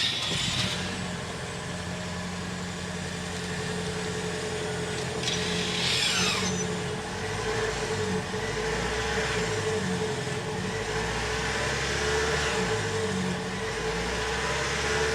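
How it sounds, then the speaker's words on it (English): Engine of a 2023 Toyota Crown Limited idling, a low steady hum and drone heard continuously at moderate level with a brief rustle partway through and no talk. "move it a little bit so you can hear the sound of the engine"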